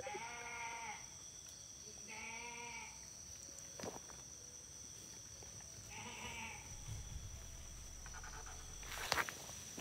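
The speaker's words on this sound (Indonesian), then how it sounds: "Kok ada suara kambing sih," Goats bleat in three wavering calls spaced a few seconds apart, moderately near, over a constant insect drone, with a sharp rustle or knock near the end.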